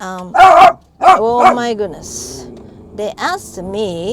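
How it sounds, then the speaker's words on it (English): A dog barks loudly nearby in several sharp bursts, then whimpers and yips, interleaved with someone talking over it indoors. "I'm sorry about the barking."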